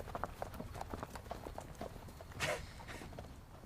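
Horse hooves clip-clop at a steady walking pace, a regular series of crisp knocks at moderate distance with no voices over them.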